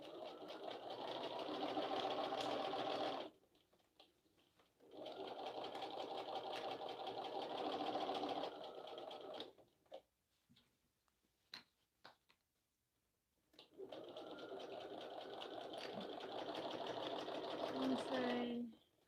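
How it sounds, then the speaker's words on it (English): A sewing machine stitches a small shallow bag in steady whirring runs, pausing between seams, close and fairly quiet, with someone talking between the runs. "All right, I'm gonna sew again."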